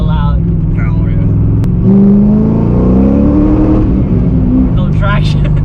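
A car fitted with Speed Engineering aftermarket headers revs up loudly, its droning exhaust note rising in pitch and then easing off, with voices talking over the engine.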